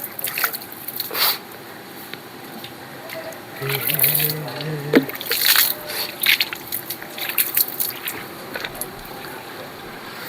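Water is poured and splashed across a tulsi platform to wash off spilled lamp oil, flowers and dirt, with intermittent sloshing and splattering bursts close by under ongoing talk.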